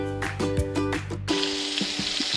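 Sausage patties fry in a pan with a steady hiss and crackle, punctuated by small pops and spatters, close and moderately loud with no voices.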